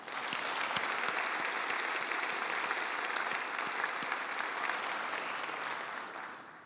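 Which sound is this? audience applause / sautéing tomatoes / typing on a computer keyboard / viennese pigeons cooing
audience applause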